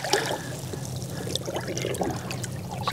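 An undulate ray being released from a small fishing boat into the sea, with continuous close splashing, trickling and pouring water sounds and scattered drips, fairly loud and with no talking.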